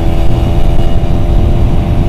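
A Kawasaki Ninja ZX-150RR motorcycle engine runs loud and close, a steady droning roar with slight rises in pitch and no voices.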